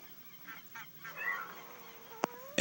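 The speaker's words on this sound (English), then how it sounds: "Birds is outside singing from my window." Real birds calling outside a window, faint and distant, with a few brief honk-like calls over a quiet indoor background and a couple of sharp clicks near the end.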